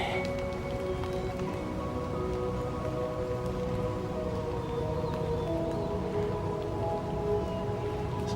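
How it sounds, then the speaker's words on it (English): Steady rain patters on surfaces during a dark, cloudy morning hike in a wooded park, a continuous moderate hiss with scattered drop hits and a faint low hum beneath, no talking. "It's still raining,"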